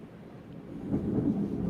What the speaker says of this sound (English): Ooh, did you hear that thunder?